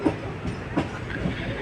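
Sapthagiri Express, hauled by a diesel locomotive, rolls into Renigunta Junction with a low rumble and a few soft wheel clacks heard close from inside a coach.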